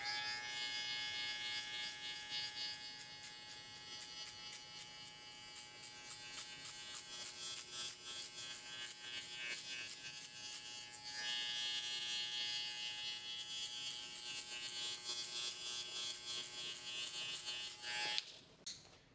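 Electric hair clipper cutting hair for a mid drop fade, breaking down the weight line: a steady close buzz that pulses with repeated strokes and cuts off near the end.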